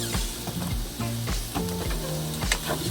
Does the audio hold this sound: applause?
no